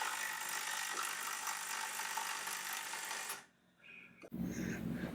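A broken paper shredder's sparking motor grinds and rattles harshly for over three seconds, drops to near silence as it jams, then kicks back in with a sudden loud burst.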